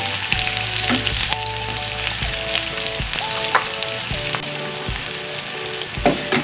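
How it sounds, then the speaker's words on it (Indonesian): Onions sautéing in hot vegetable oil make a loud, close, steady sizzle, broken by repeated clinks and scrapes from stirring. "Aku tumis bawang bombaynya sampai tercium aroma harum."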